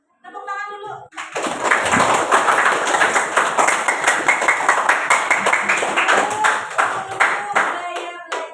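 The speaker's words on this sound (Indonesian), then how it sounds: "Tepuk tangan dulu." Audience clapping at a teacher training session: after a brief voice, a group claps in a loud, fairly rhythmic pattern of close, distinct hand claps that continues steadily to the end.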